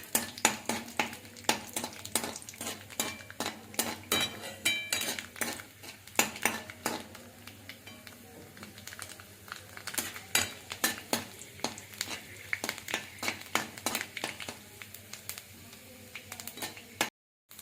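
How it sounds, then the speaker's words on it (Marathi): Almonds fry in ghee in a pan while a utensil stirs and scrapes, giving rapid, irregular metallic clinks over a soft steady sizzle that stops abruptly at the end. "बदाम थोडेसे तळून घेत आहोत तुपामध्ये."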